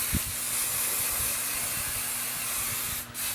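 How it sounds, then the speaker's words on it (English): Kenra working hairspray misted onto hair in a steady close hiss lasting about three seconds, with a brief dip near the end and no talking. "This is the Kenra working spray. It's a little stronger hold than the dry thickening spray has. So I'm just going to spray a little bit of this."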